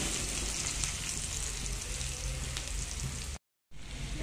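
Finely chopped onion sautéing in a pan, a steady close hiss and sizzle that runs continuously and cuts out abruptly near the end before resuming.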